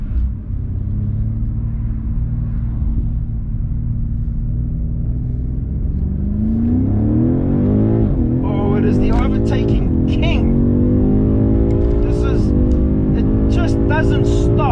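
A BMW M5 Competition engine revs up hard from a low rumble, its pitch climbing steadily under loud in-car exhaust roar, with someone speaking excitedly over it in the second half.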